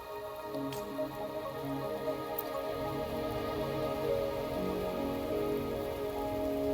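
Steady rain in the video game Wuthering Waves patters and drips on a surface, a constant soft hiss without pause, calm and even throughout.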